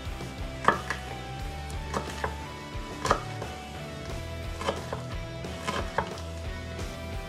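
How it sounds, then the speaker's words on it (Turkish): A knife chopping through stacked curly lettuce leaves on a board, with close, crisp cuts in an uneven rhythm, about ten strikes, alone without talk. "Hepsini üst üste koyup bu şekilde keseceğim"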